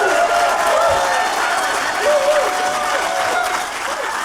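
Applause from a game-show studio audience, with one contestant clapping for himself among the crowd, a steady close patter of hands lasting a few seconds.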